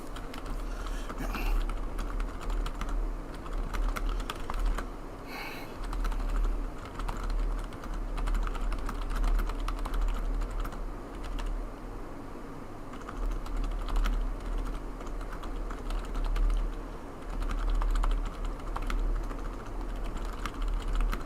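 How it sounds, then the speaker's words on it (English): Steady, rapid typing on a computer keyboard during an online racing league session, a continuous patter of close key clicks with no talk over it. "Sorry, just typing something down."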